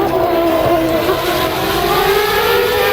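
A Formula 1 car's engine screams at speed during a race at a steady high pitch with slight wavering, loud and continuous, heard alone with no voices.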